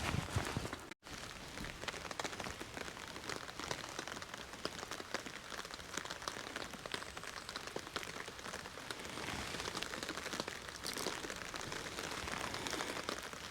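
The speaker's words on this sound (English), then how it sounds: "It's just a fine mist coming down right now." Light rain falling on a campsite during a big seasonal storm, a dense continuous patter of fine drops on surfaces, steady and close throughout with no talking.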